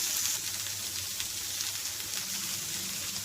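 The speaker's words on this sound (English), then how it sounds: "So I've taken little ghee, sauteing my capsicum and paneer." Capsicum and paneer saute in ghee in a pan, a soft, even sizzle that carries on without a break.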